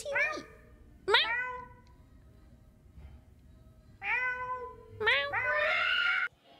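A string of bright, rising meows, each short and distinct, with gaps between them and a longer drawn-out call at the end; the sounds resemble a voice imitating a cat rather than a real animal.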